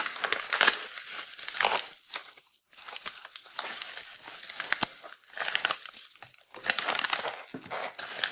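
Bubble wrap crinkles and crumples in close, irregular bursts as an envelope is unpacked from its protective packaging, with brief quiet pauses between handling sounds and a sharp tap partway through.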